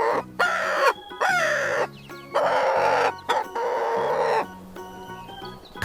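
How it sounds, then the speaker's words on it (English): A farm rooster crows several times in a row, each loud cock-a-doodle-doo coming close and clear, with brief gaps and a few clucks in between. "Cock-a-doodle-doo."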